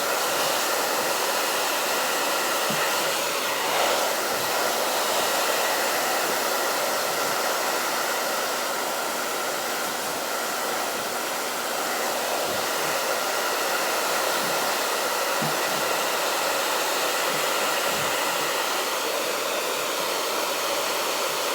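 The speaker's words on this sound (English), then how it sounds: "Blow dry and cool. I'm just using it to get the dust off." A hair dryer blows steadily to clear dust off a raised stencil, a continuous close whooshing roar that holds at an even level from start to finish with no voices.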